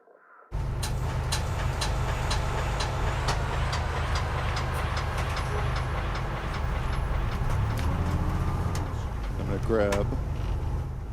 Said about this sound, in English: So I think I liked the bus sound a lot.